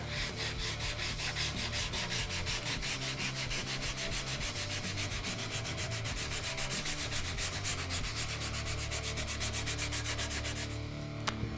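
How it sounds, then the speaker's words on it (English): A wooden guitar neck being sanded by hand with 150 grit sandpaper, a continuous rhythmic rasping of back-and-forth strokes that is close and steady, then stops abruptly near the end. "So that's just sanded with 150, but it's really smooth."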